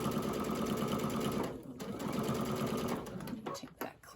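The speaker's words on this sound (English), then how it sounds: "because we're machine attaching this, I am sewing to the back of the quilt" A sewing machine runs in a fast continuous whir, stitching binding onto the back of a quilt, pausing briefly and then resuming with a few uneven bursts near the end.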